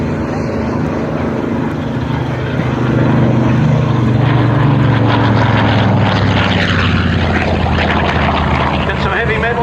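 A Grumman Avenger warbird roars in for a strafing pass at an airshow, its loud propeller engine droning steadily and swelling as it nears, with a commentator talking over it.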